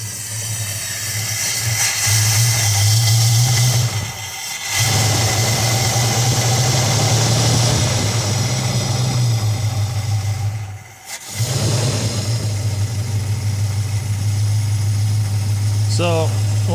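A 1969 Dodge Dart GT V8 waking after years in storage rumbles at a loud, steady idle with a low droning hum, dipping briefly twice as the throttle is worked, with a light whine near the end.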